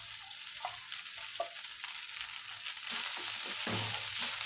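Cooked rice is tipped into a pan of amla rice and mixed, giving a continuous close frying sizzle with scraping and clinking strokes that quicken and grow louder in the last couple of seconds, with no one speaking.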